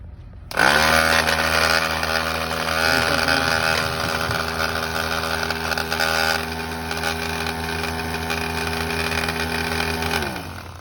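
A Harbor Freight Pittsburgh Automotive 12V 150 PSI air compressor, faulty and no longer pumping air, starts up with a steady loud droning whine that holds for about ten seconds before winding down.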